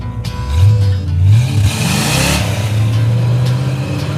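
A rock-crawling Jeep engine with a transfer case shifter that needs work revs up twice in quick surges, then holds a loud, steady rumble nearby while the clutch is worked in and out.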